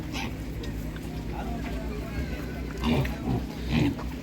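Pigs grunt and squeal at a village livestock market amid a low background babble, with louder grunting bursts near the end while someone talks over them.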